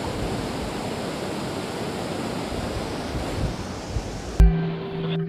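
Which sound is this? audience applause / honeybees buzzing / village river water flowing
village river water flowing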